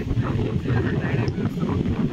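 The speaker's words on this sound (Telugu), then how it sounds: "అరే గాలి డేంజర్ ఉంది భయ." Strong wind on a beach in Goa buffets the microphone with a loud, steady low roar for the whole stretch, gusting slightly without any break.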